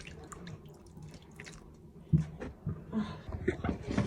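Warm water pours onto raw meat in a pot before boiling, heard as faint splashing and dripping with small wet knocks growing busier toward the end, close up and quiet.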